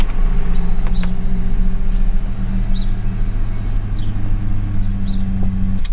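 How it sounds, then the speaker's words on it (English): A Mercury Grand Marquis engine idles steadily in a garage while the transmission is moved through its gears, giving a constant low hum with a few faint clicks and light knocks. "we're gonna now start the car and go through every gear"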